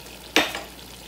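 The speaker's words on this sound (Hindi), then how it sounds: "अब हम इसमें एक एक करके सारी सब्जियां डालेंगे" A single sudden sizzling burst as vegetables drop into a hot pan during vegetable pasta cooking, sharp at onset then fading over a fraction of a second, with no talk.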